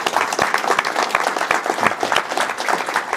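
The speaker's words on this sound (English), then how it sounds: "Can we give our guest, Colonel Kevin Benson, a round of applause?" Dense, loud audience applause for guest speaker Colonel Kevin Benson, many hands clapping together in an unbroken roar from start to finish.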